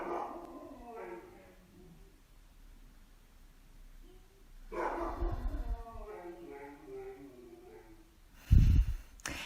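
A pet dog named Floki barks and howls indoors, with drawn-out wavering howls and yips, a voice speaking over it, and a sharp loud thump near the end.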